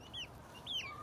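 A free-ranging chicken gives two short, high, rising clucks, close and fairly faint, over a low steady outdoor hum, with nobody talking.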